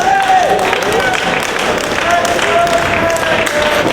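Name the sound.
wrestling crowd applauding both wrestlers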